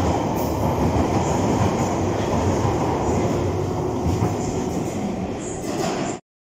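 London Underground train arriving at Caledonian Road on a hot day, a loud, steady rumble and clatter of wheels and carriages close by for about six seconds before cutting off abruptly.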